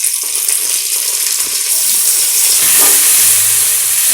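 Ginger garlic paste sautés in oil for chicken biryani made with farm-raised country chicken, a loud continuous sizzle with occasional scraping stirs and no talking.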